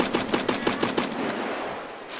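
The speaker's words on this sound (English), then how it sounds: "Is that you shooting?" Rapid burst of about six gunshots in the shooter game Escape from Tarkov, evenly spaced and fairly close, followed by a lingering echoing tail.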